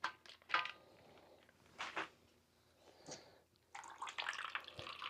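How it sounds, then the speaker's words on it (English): Water drains and trickles from a worm compost bin softened with cardboard and frozen lettuce, faint and close, in irregular splashing bursts with a steadier trickle toward the end. "There is already an inch of water and it's still draining."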